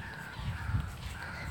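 A small bird calls from overhead at a beach resort, a few harsh caw-like notes over steady outdoor background noise.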